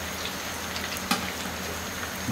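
Chicken drumsticks fry steadily in hot oil over medium heat, giving a constant, even sizzling hiss with a faint crackle partway through and no voices.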